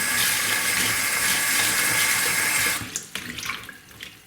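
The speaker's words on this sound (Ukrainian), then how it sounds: "От стільки бруду було в наших грибах, тому вважаю, що промили, промили ми їх Прополоснемо ще раз." Cold tap water streams over freshly gathered mushrooms being rinsed of dirt in a kitchen sink; a loud, steady gush runs for a few seconds, then stops, leaving faint splashes and handling clatter.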